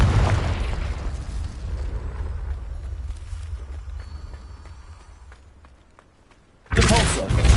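Explosions in a wizard video game, a loud booming burst with rumbling debris that fades away, then a sudden second blast at the end.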